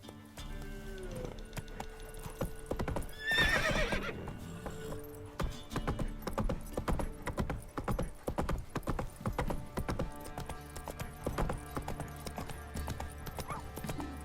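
Horse hooves clip-clop steadily in The Witcher 3, with a loud neigh near the start, then continue at a trotting rhythm to the end.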